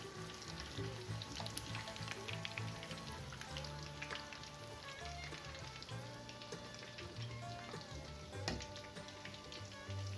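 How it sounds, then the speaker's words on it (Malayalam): Chicken wings for masala lollipops deep-fry in hot oil, giving a steady, fairly quiet bubbling sizzle with scattered pops throughout, no voices. "നമ്മുടെ ചിക്കനൊക്കെ നന്നായിട്ട് ഫ്രൈ ആയിട്ട് വന്നിട്ടുണ്ട്"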